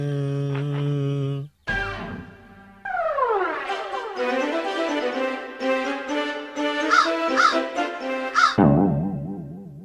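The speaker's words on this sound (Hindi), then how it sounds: "इससे पहले कभी कौवा नहीं देखा क्या?" Several loud, nearby crow caws ring out one after another in an irregular series, rising and falling harshly. A short tonal note comes before them and a brief pause breaks them up.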